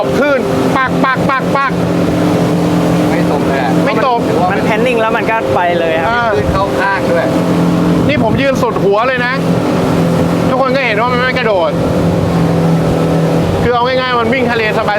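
An aluminium boat from a Pattaya boatyard motors through waves with a loud, constant engine drone and heavy wind buffeting the microphone, while people talk over the noise throughout.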